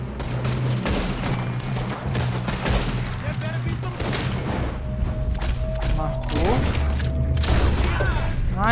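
Gunfire from the video game Red Dead Redemption 2 crackles in rapid repeated bursts mixed with mechanical clicks and booms, and a voice talks faintly underneath.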